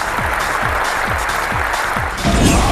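A crowd at Sony's E3 2005 PlayStation 3 presentation roars and cheers in a loud, continuous wash of noise. A pounding rhythmic beat thumps underneath, and the noise swells louder near the end.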